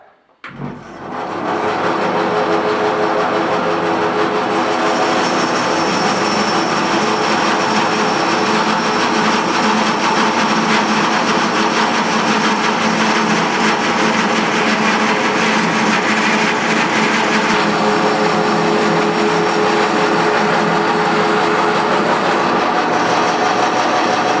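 A sawmill carriage feeding a log into the blade to cut boards, a loud steady mechanical roar that starts abruptly and holds continuously for over twenty seconds with no talking.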